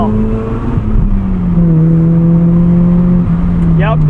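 A 1990 FC Mazda RX-7 rotary engine pulls hard on a canyon road, a loud steady drone with pitch sliding through gear changes, heard from inside the car, with a brief voice near the end.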